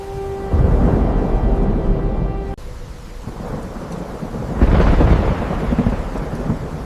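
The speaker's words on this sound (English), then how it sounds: "For the first time, rain began to fall." Heavy rain pours steadily while deep thunder rumbles and rolls, swelling loudly twice; a dense, close storm with no voices.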